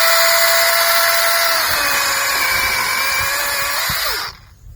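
A TAIRDA battery chainsaw running on a Makita battery cuts steadily with a loud, close, high whine for about four seconds, then cuts off abruptly.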